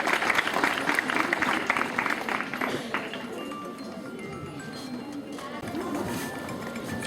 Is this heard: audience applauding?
yes